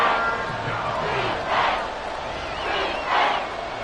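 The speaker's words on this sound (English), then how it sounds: "One of the bigger plays in the game thus far, and the crowd getting into it" Crowd noise from an American football video game swells in repeated waves of roaring cheers during a fourth-quarter play, loud and continuous throughout.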